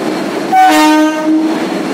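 The Mahalaxmi Express rolls along, its horn blaring loud and close for about a second over the steady rumble of the train.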